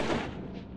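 A single gunshot sound effect from a German horror audiobook: a loud, close blast whose broad, rumbling tail fades out over under a second, with no voices.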